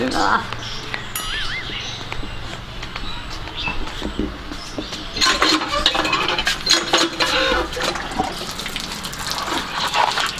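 Water pours from a lota to wash feet, splashing and trickling in uneven bursts with a few small metallic clinks, while voices are heard faintly in the background.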